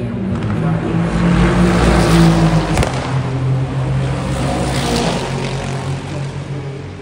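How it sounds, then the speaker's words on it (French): A Ferrari race car, number 21, at Le Mans during Hyperpole qualifying, its engine a loud, steady roar that holds close throughout, with a brief sharp peak partway through. "Alessio Rovera pour la Ferrari numéro 21"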